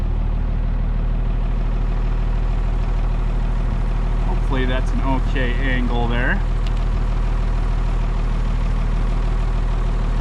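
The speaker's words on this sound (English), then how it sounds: "You guys can see how I actually hook a tractor up here too." A tractor engine idles steadily on a Montana farm, a constant low rumble running under a man's nearby speech throughout.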